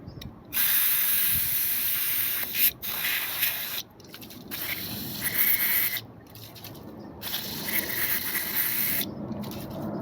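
An aerosol can of brake parts cleaner sprays in several long hissing bursts separated by short pauses, loud and close, with no talking.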